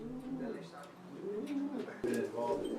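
Pigeons coo softly inside a loft, where each door is covered with green shade cloth; low, rolling coos repeat steadily through the clip alongside faint chirps, with a brief louder burst near the end.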